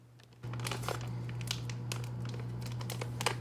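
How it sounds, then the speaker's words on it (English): Plastic packaging crinkles and rustles in close, irregular bursts over a steady low hum, quiet but continuous as it is handled and opened. "get to open up this package."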